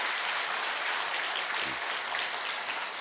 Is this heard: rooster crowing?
no